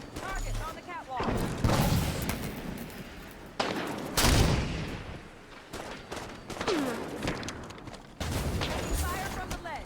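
Gunfire from the Halo 5: Guardians video game comes in repeated bursts and booming impacts with short gaps between them, while in-game voices call out over the shooting.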